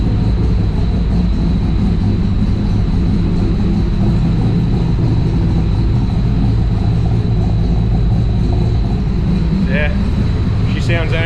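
A car engine idles at its high startup idle after a repair, a loud, dense, constant rumble that stays steady throughout, with faint voice-like sounds briefly audible near the end.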